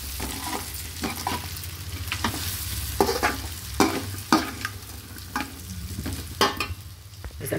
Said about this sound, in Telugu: ఇలాగే నెమ్మదిగా ఫ్రై చేసేస్తాం